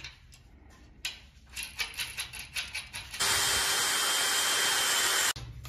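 Screws are tightened during fixture installation, first as a series of rhythmic ratcheting clicks from a hand tool, then as a few seconds of steady, loud whirring from a power driver that stops abruptly.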